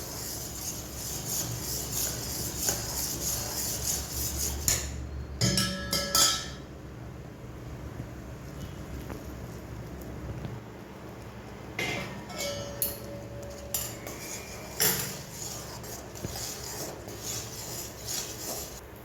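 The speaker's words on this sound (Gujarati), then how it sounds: "હવે આપણે આની અંદર ગરમ પાણી નાખીશું અને આને હલાવી લઈશું" Semolina stirred with hot water in a pan while making mango suji barfi, giving faint clinks and scrapes of a utensil against the pan over a steady low background, with a few louder knocks.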